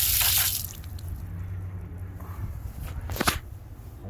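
Water rushes briefly at a repaired FEBCO 765 backflow valve as it is turned off, then faint trickling and drips continue with a short clatter near the end; no talking.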